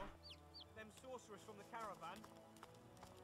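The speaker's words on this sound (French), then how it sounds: "On a une poule du néant." A chicken clucks in the fantasy role-playing game Divinity: Original Sin II, short chirpy calls mixed with hoof-like clopping and game voices talking over them.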